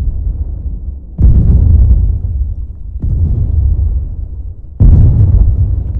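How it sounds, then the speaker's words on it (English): Mortar shells land in a video game battle, three heavy booming explosions at roughly even intervals, each a loud low-heavy blast followed by a rumbling tail that lingers into the next impact. "Might still be in death lane, but mortars coming in."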